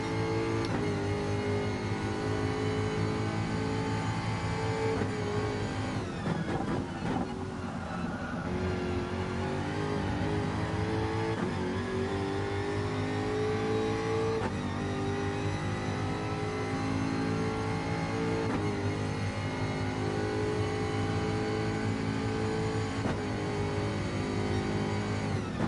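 Race car engine in a video game, pushed hard through a hot lap at the Red Bull Ring, a continuous loud whine that rises and falls with shifts and braking, alone without talk.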